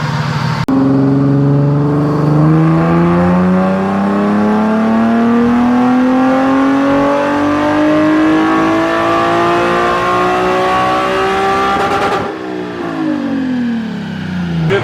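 An Infiniti G37 engine on a dyno rises in one long, loud, close wide-open-throttle rev, its pitch climbing steadily before it drops sharply off the throttle near the end.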